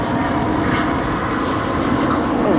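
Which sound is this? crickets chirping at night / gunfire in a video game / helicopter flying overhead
helicopter flying overhead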